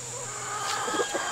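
Backyard chickens grown too big for their mobile chicken tractor give a few soft clucks over a steady low hum, faint and close by, with no talking.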